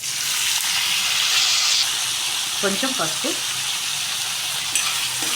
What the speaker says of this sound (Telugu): ఇవి కూడా ఇప్పుడు తాలింపులో వేసేసుకుందాం